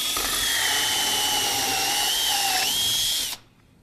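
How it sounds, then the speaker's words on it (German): A power drill fitted with a hole saw cuts through material with a steady, loud, high whine and grinding that shifts slightly in pitch, then stops abruptly near the end. "man ist mit dieser Lochsäge wesentlich schneller als mit einer Bimetall-Lochsäge"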